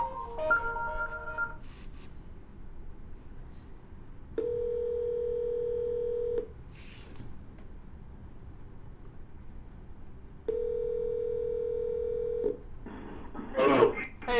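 Two long, steady single-pitch telephone tones, each about two seconds and evenly spaced, sound over a quiet room hiss during an automated phone call, with brief voice bits before and a rustle at the end.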